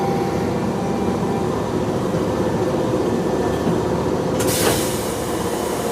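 Passenger train running on the Shibayama Railway line in Japan, a steady loud rumble of wheels on track that continues throughout with no talk, a brief sharper rattle or squeal near the end.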